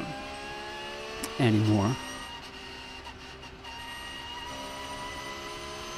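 A race car engine drones steadily from inside the cockpit on the Nürburgring Nordschleife, a constant even hum heard throughout, briefly joined by a short burst of speech.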